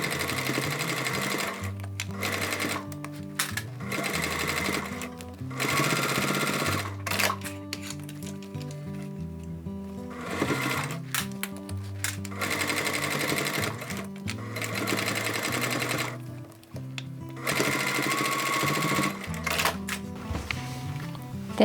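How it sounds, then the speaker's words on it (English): A sewing machine stitches a fabric bag, running in several bursts of fast, even mechanical chatter with short pauses between them, close and loud. "Now we can sew down here."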